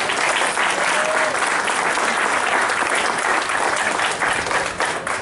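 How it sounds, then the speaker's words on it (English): A crowd at an outdoor ribbon cutting gives the builders a steady round of applause, dense and continuous clapping throughout. "So just a round of applause for them,"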